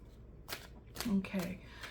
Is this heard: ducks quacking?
no